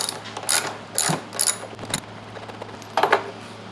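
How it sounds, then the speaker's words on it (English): A 10mm ratchet wrench clicks in quick bursts while loosening a car battery terminal on an Abarth 500, several short ratcheting runs close up, then a final pair of clicks after a pause. "Grab a 10mm and 10mm wrench and just disconnect this battery"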